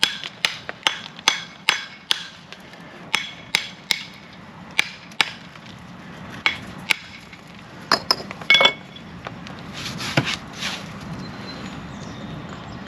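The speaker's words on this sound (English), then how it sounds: "brick hammer like a chisel on the end there." Sharp metallic strikes of a brick hammer's chisel end chipping at field brick, a rapid irregular series of close, ringing knocks with short pauses, no talking.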